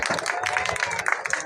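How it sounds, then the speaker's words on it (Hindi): A political rally crowd breaks into loud, dense applause, with many hands clapping together in a brief burst and a voice audible underneath. "जोरदार ताली से"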